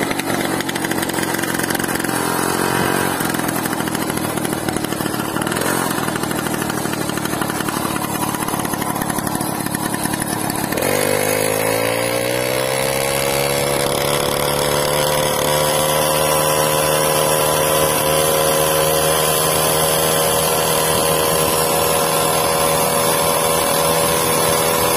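A Caloi moped engine runs steadily and loudly nearby with a buzzing two-stroke drone, then settles into a smoother, rising tone partway through, with no talking over it.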